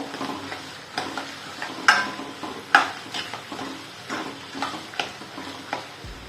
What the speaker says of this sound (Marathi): कांदा आणि पावटा मस्त परतू द्यायचा आहे आता आपल्याला